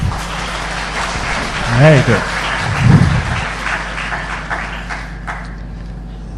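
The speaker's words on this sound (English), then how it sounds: "let's give a round of applause to Ajahn Brahm." Applause from a crowd for Ajahn Brahm before his evening talk on happiness, a broad spread of clapping that thins out near the end, with a voice briefly speaking over it.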